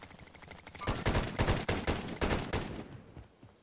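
Rapid bursts of video game gunfire in a multiplayer match, a close, dense rattle of repeated shots for about two seconds that then fades out.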